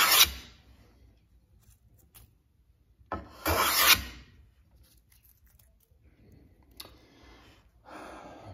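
An old Stanley hand plane shaving wood, two long rasping strokes close up, each a loud sliding hiss separated by quiet, with a fainter third pass near the end.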